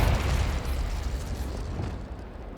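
A Confringo fire spell explodes in the Hogwarts Legacy video game, a loud, close burst with a deep rumbling boom that slowly fades.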